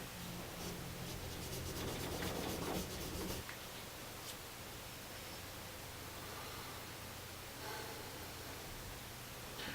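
A cleaning tool scrubs carbon out of an AR-15 bolt, giving a steady, close, rough scraping rub for the first few seconds before it eases into a quieter hiss of faint rubbing.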